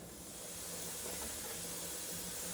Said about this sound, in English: it will start spouting steam out of this vent.